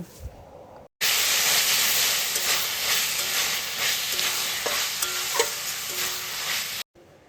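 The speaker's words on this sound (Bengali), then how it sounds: "এবার এর মধ্যে দিয়ে দিচ্ছি টমেটো সস আর সয়া সস। এগুলো দেওয়ার পর এবার ভালোভাবে মিশিয়ে নেব।" Vegetables for veg chow mein are stir-fried with tomato and soy sauce; after a quiet start, a loud, steady sizzle and steamy hiss erupts, punctuated by occasional spatula clinks, then cuts off near the end.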